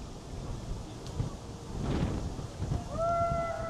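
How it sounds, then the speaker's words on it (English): Strong wind gusting outdoors at night in downtown Miami, a broad rushing roar buffeting the microphone with swelling gusts, with faint tonal sounds near the end. "And it's so windy"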